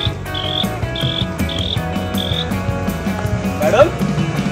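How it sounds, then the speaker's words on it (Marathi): Crickets chirp in steady repeated bursts close by, a rhythmic shrill pulse heard from inside a moving auto-rickshaw, with the low rumble of the vehicle underneath and one brief rising squeak near the end. "परत ते तुझा आवाज का रातकिडीवाला?"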